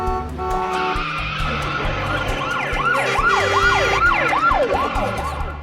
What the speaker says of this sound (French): Quand l'ambulance passe